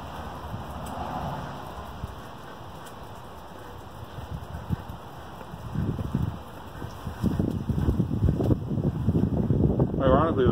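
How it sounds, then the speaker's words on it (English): Outdoor wind rising after a quiet stretch, a broad low rumble and buffeting against the microphone growing louder and steadier toward the end, with a brief voice near the close. "Ironically, the wind just picked up."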